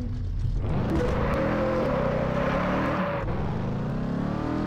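A car in the racing game Test Drive Unlimited 2 revs up and accelerates, its engine note climbing loudly and then easing off into a smoother whir, with no talking over it.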